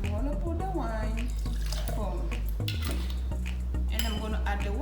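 Wine poured into a glass for a kitchen science experiment, a liquid stream with glassy clinks and knocks, close and clear, while a person talks over it.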